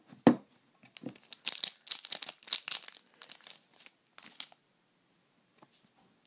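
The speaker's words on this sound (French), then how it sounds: "c'est galère à ouvrir les boosters japonais" Japanese Vanguard trading card booster packs being torn open by hand, a burst of crinkly foil tearing and rustling in short bursts, close and clear, then trailing off into quiet.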